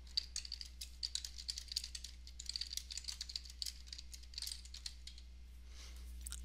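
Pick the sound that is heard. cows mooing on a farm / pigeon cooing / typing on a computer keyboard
typing on a computer keyboard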